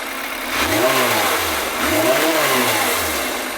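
A Yamaha FZR1000 EXUP engine during carburettor balancing, revved twice in quick succession, each rise in pitch falling back toward idle, loud and close with no talking.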